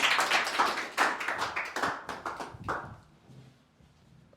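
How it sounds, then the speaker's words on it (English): Audience clapping at a group discussion event, a lively burst of hand claps over about three seconds that thins to a few scattered claps and fades out. "Please put your hands together for him."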